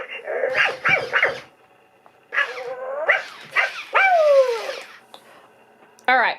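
Spin Master Present Pets electronic puppy toy giving bursts of high, whiny yelping barks in short groups with pauses between, close and fairly loud; a person's voice may mimic the barks.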